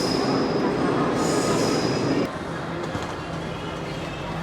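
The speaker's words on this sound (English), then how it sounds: "here comes the train." A train arriving at a London station rumbles loudly with screeching wheels, then the noise drops abruptly to a quieter hum as it comes to a stop.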